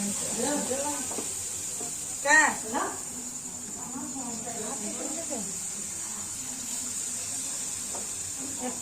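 Palm fruit fritters (fuluri) fry in oil with a steady, even hiss that runs throughout, while someone talks over the sizzle near the start and a brief louder sound cuts in.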